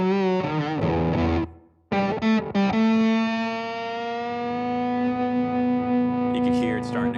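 An electric guitar plays through a Walrus Audio Eons Five State Fuzz pedal, with gain at about 3 and supply voltage lowered to 3 volts. Choppy, blown-out fuzzy chords give way to one long, buzzing sustained note, loud and close.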